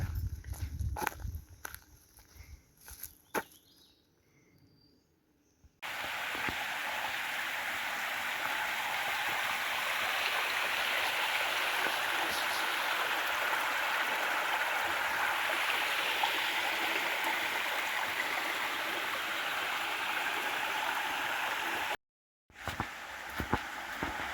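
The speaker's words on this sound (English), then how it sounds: "Little water crossing." Steady rushing water of a stream at a trail crossing flows continuously at close range, a constant broadband wash with a few footsteps near the start and a brief gap near the end.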